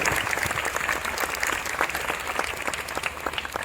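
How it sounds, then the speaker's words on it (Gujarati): Steady, sustained applause from a crowd at a BAPS school children's event in Junagadh, dense clapping throughout with no voices standing out. "આપણે જોરદાર તાળીઓથી પણ વિજય સ્વામી બાપાનો પણ આભાર વ્યક્ત કરીએ"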